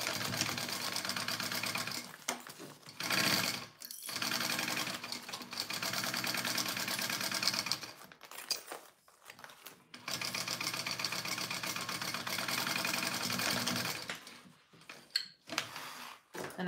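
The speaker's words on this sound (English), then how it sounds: "I am just basting these two layers together now" A sewing machine bastes two fabric layers together for a Konin Bowler bag, stitching in long steady rapid runs broken by short pauses and stops, close and fairly loud.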